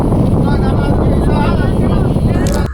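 Loud, continuous motor drone of a speed boat passing on the Alappuzha backwater, mixed with wind rush against the microphone, steady throughout before cutting off abruptly at the end.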